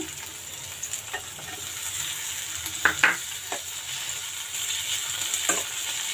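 Brinjal pieces and tomatoes sizzle steadily while frying in a pan, with a few stirring scrapes and light knocks against the pan, and no voices.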